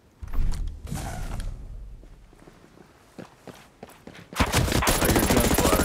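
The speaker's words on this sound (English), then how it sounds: "I hear gunfire." Gunfire in the video game Ghost Recon Breakpoint during a PvP match: scattered loud shots and impacts, then a sustained dense burst of automatic fire near the end, with footsteps and movement in between.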